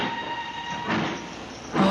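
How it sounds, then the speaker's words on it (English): Train in the film Brief Encounter: a steady rolling rumble of carriages with two swelling surges, heard alone without voices. "Oh, she's getting off the train."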